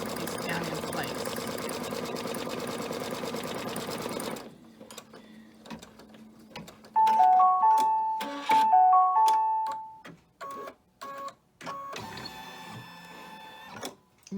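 A sewing machine tacks a fabric piece down on a flag banner, with short bursts of fast mechanical stitching and pauses between them, up close, following a stretch of other noise.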